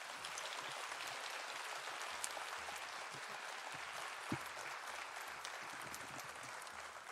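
Applause for volunteers at a tenth-anniversary concert of a Gaelic music fèis, many hands clapping in a steady, even wash that sounds distant and soft, holding for about seven seconds.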